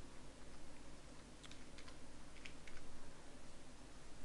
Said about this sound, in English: click save as, give it a name